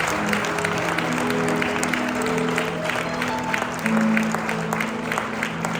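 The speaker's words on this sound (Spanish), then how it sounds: "Le voy a dar un fuerte, fuerte aplauso a Dios" A congregation in a church service claps together in sustained applause, a dense, steady patter of many hands under a faint sustained organ-like tone, close and continuous throughout.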